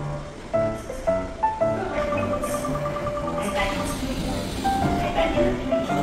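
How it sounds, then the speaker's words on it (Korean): A Seoul subway train pulls out of Onsu station heading toward Jangam, with rhythmic wheel clatter early on and then a steady rumble carrying tonal motor whine and rising electric hums. "열차는 왔던 길로 다시 온수역을 빠져나가 장암역 방면으로 이동합니다"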